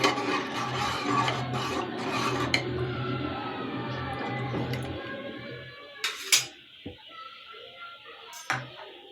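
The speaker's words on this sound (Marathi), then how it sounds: "आता हे एकदा आपण मिक्स करून घेऊया" A spoon scrapes and stirs sambar around the inside of a pot in steady rasping strokes, followed by a few sharper knocks near the end.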